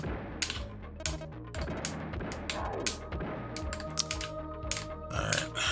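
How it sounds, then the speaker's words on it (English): Plastic button clicks from a third-party Xbox 360 controller during SNES-style platform gameplay, a steady run of sharp, close taps and clacks in quick irregular bursts over game music and effects. "Sorry if you guys can hear my controller clicking."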